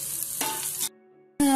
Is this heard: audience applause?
no